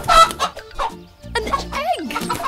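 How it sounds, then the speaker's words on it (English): A cartoon chicken clucks in short, close, fairly loud bursts across the clip, with a rising squawk-like call near the end and no other sounds around it. "Look, the chicken is back."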